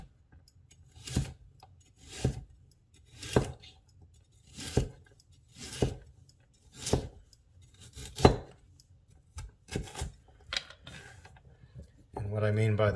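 Sharp knife chopping through salad vegetables into strips on a board, about ten crisp evenly spaced chops close by, with a louder rubbing noise at the very end.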